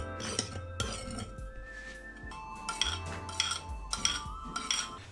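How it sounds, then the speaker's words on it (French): A spoon clinking and scraping around a bowl while a Thai salad sauce with peanut and sesame oil is stirred, in sharp bright taps and rattles over background music. "l'idée, c'est de bien mélanger votre sauce jusqu'à dissoudre les petits grains de sucre qui sont au fond"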